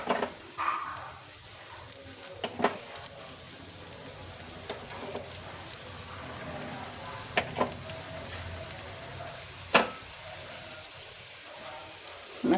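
Sliced carrots frying in oil in a pan, a steady close sizzle and crackle with scattered sharper pops and occasional scraping stirs, running continuously with no talk.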